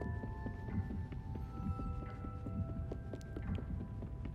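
A steady, faint heartbeat thumping in the third Little Nightmares DLC, low regular pulses under a soft sustained hum and quiet tonal drones.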